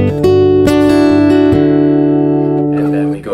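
A fingerstyle guitar plays a short chord phrase from a song, several plucked strums ringing together and sustaining, fading out at the end.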